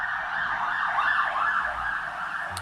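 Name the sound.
ambulance siren passing by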